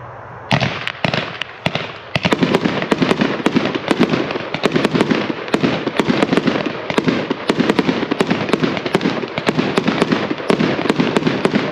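Spirit of 76 1.4 consumer fireworks shot, silver swimming effects with color strobe, delivers a rapid, dense crackle of strobing pops after an initial launch, loud and continuous for about ten seconds with no talking.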